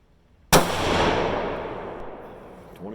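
Single rifle shot from a Ruger American Predator in 6.5 Grendel firing a handload, a sharp loud crack close by followed by a long rolling echo that fades outdoors, with no talking.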